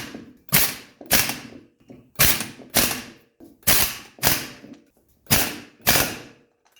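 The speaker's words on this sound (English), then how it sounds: "We'll run them down with the high torque impact." A high-torque impact wrench runs down Loctite-coated bolts on a 1979 Mercedes 300SD. It fires about eight short, sharp rattling bursts in a fairly even rhythm with brief quiet gaps, close and loud.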